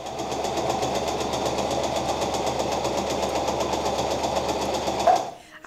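A sewing machine stitching fabric for a turtleneck blouse runs steadily with a fast, even mechanical rattle for about five seconds, close and clear, then stops abruptly.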